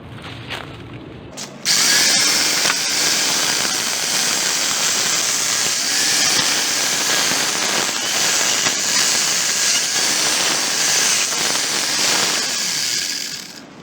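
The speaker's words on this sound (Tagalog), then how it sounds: "susubukan ko itong chainsaw na binili ko kung okay" A grinder converted into a chainsaw roars to life after a brief sputter and runs loud and steady, biting continuously into wood with a harsh, buzzing whine.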